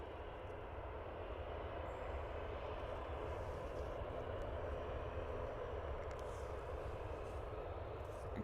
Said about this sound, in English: I can hear another ATR off in distance